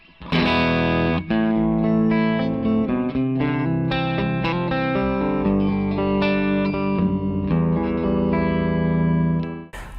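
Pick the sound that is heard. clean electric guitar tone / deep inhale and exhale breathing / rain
clean electric guitar tone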